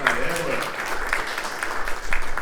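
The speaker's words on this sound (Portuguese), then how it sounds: "uma salva de palmas para" Brief round of applause at an academic round-table session honouring a professor, with individual claps standing out and a voice heard briefly over the start.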